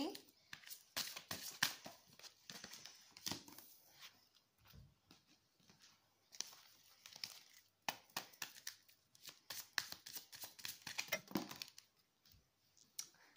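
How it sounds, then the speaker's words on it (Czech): Tarot cards are shuffled and drawn, giving soft flicks, slaps and papery snaps close up at a low level, interleaved with quiet talking. "Tak, ještě si tady vytáhneme další karty."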